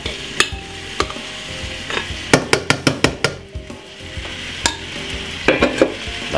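Vegetables go into a sizzling pan for Jamaican brown stew chicken, with steady frying hiss under sharp repeated clinks and scrapes of a utensil stirring against the pan, loud and close.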